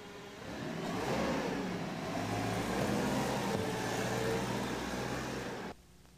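A forklift starts up and drives off, its engine a steady, moderately loud mechanical whir that holds for several seconds before cutting out abruptly.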